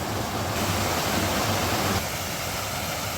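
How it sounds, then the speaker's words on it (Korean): Water falling as a waterfall from a large rock on a mountain trail at Gukmangbong in Pocheon, Gyeonggi-do, in May, a steady close rush of white noise that stays loud and unbroken throughout. "큰 바위에서 지금 물이 예, 폭포, 폭포가 돼서 떨어지는데요"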